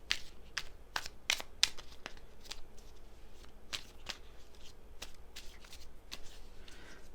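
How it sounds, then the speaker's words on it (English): Tarot cards being shuffled by hand at close range, with a run of sharp riffling flicks and slaps, some bursts quick and clustered, others spaced apart, quiet and alone. "I'm having trouble shuffling."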